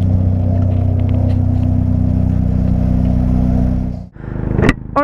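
A motorcycle engine fitted with a new carburetor drones steadily at a fast, constant rev, loud and close, then cuts out abruptly near the end before a brief rising rev returns.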